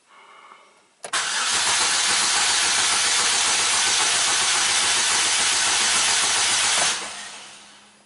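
A 2009 Chevy Cobalt with a misfire problem cranks briefly and starts, then a loud, steady broadband hiss of running engine noise holds for about six seconds before dropping away abruptly, recorded close with no voices.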